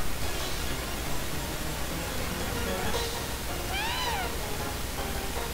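A cat-like Pokémon's meow cry in Pokémon Black 2, one short rising-and-falling meow in the middle over a steady hissy background.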